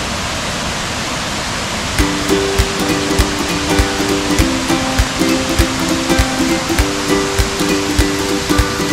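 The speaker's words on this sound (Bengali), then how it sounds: "এই ওয়াটারফলটা খুবই ছোট, উপর থেকে পড়ছিল, কিন্তু অনেক জল ছিল।" Small Sanaghagra waterfall with plenty of water pouring from above, a steady loud rushing roar filling the whole clip, with faint tonal clicks and tapping under the wash of water.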